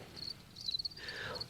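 Crickets chirp on a cricket farm, a faint high trilling that comes in short bursts over a quiet background, with no voices.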